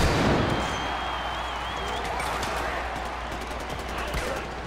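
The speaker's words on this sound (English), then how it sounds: "A lot of explosions going on over there." A steady stream of distant booms and crackling blasts in the game Far Cry 4, continuous and moderately loud with faint chatter in the background.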